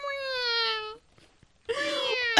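A person imitates a cat with long, drawn-out meows, two loud wailing calls separated by a short pause, close and clear.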